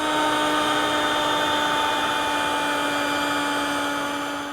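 A router fitted with a bearing-guided bit trims the edge of a board along an attached template for an all-weather loveseat, giving a steady, loud high-pitched motor whine and cutting hiss that holds evenly throughout before easing slightly at the end.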